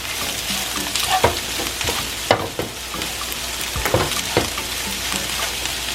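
Turkey fried rice with bean sprouts sizzles steadily in a hot pan, a continuous frying hiss broken by several sharp stirring scrapes and clatters, close and alone with no voices.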